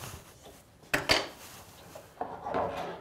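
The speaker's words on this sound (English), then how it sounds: "I'm trying to use nice long strokes, so I use all the teeth so that the ones in the middle don't get dulled first" A hand saw cuts through wood in long strokes during tool chest building, giving a few rasping, scratchy passes with a couple of sharp knocks, close and fairly quiet.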